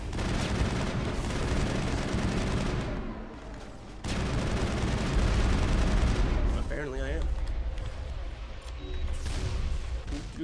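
Gunfire in the video game Mass Effect, dense bursts of shots and impacts layered with loud game effects and music, sustained across the clip with brief lulls, while a voice talks over the action.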